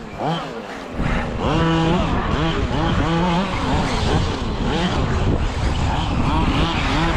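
FG Marder nitro-powered RC car racing around a track, its small engine buzzing and rising in rapid revving bursts as it passes, with someone talking over the continuous whine.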